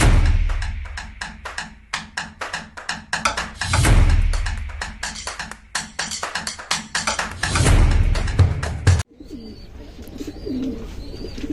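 Silver pigeons in a loft coo in low, throaty rolls over a busy rhythm of taps and wing flutters, fairly loud and close. The activity drops away near the end, leaving quieter cooing.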